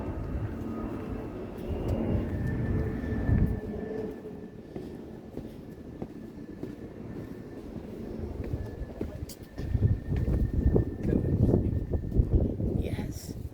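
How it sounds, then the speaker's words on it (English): Airplane passing low overhead at Kew Gardens in London, a broad rumbling roar that swells and fades in the distance, then builds again louder, under outdoor garden ambience with people talking. "it's too noisy because of the plane is going down and up every 5 seconds"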